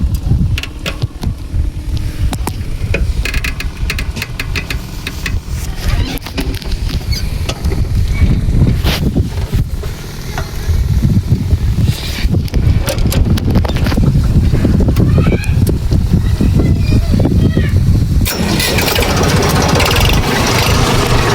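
A tractor engine runs on a farm, giving a steady, loud low rumble throughout with wind buffeting the microphone and no clear talking.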